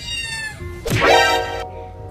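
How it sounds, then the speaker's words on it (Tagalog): A cat meows loudly and drawn out outside, a rising and falling cry close by, against a steady background hum. "Pusa pa sa labas."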